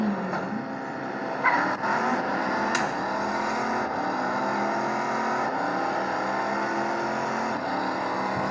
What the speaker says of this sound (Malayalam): ഡ്രിഫ്റ്റ് മോനെ, അടിപൊളി ഡ്രിഫ്റ്റ് ആയിരുന്നു